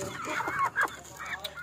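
Chickens cluck in short, close bursts in a farmyard.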